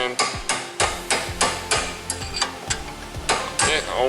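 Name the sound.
tapping a part out with an extension or screwdriver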